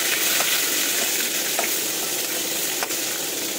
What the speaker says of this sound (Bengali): আবার যে চারটে পটল আছে সেই পটলটাও কিন্তু এইভাবে আমি ভেজে নেবো